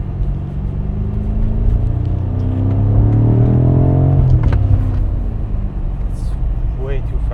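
A BMW engine pulls hard in third gear from low revs up to the red line, a rising, droning roar inside the car that climbs steadily, peaks, then eases off, with a few faint scrapes near the end.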